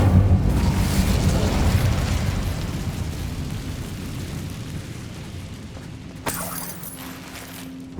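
A heavy fiery blast from the Incendio spell in Hogwarts Legacy, loud at first and then fading into a long rumbling decay, with a brief bright magical shimmer near the end.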